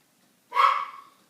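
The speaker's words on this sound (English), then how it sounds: "Why is the dog barking?" A single sharp bark from Duke, a dog indoors, bursting out loudly and trailing off quickly with no talk around it.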